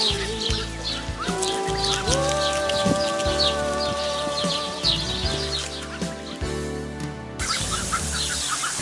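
A garden hose sprays water onto ducks in a garden in Rio Torto, northern Portugal, giving a steady hissing patter of water, with clucking and calling birds close by and a faint tonal whine running through.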